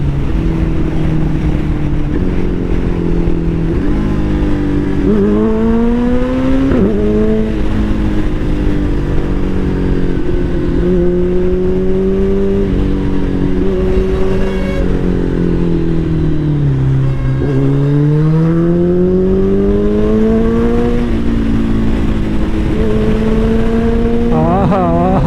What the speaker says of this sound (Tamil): எக்ஸாஸ்ட் நோட் உண்மையாக ரொம்ப அருமையாக இருக்குங்க